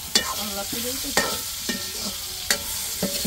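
Food being stirred in a frying pan with ginger, a spoon scraping in sharp strokes about once a second over a steady sizzle, close and clear with no talking.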